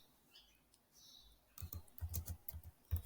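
Someone types a short word on a computer keyboard, a quick close burst of clicking keystrokes after a quiet pause, with no talk.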